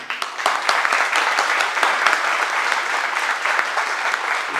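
Audience at an investor talk applauding the event organizer, a dense sustained burst of clapping from a sizable indoor crowd, steady and loud throughout with no speech.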